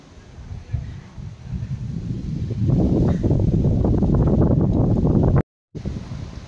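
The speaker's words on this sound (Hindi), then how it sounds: "बहुत तेज हवा चल रही है, बहुत ज्यादा ही तेज।" Strong, gusting wind during heavy rain outdoors, a broad rushing roar that builds and stays loud, with a short dropout near the end and a voice speaking faintly beneath it.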